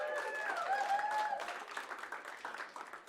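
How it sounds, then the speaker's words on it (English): Audience applause at a live Bushwick Book Club music-and-literature show, welcoming a performer; dense clapping builds over a brief tonal sound at the start, then continues steadily to the end. "let's welcome Leanna with a nice round of applause."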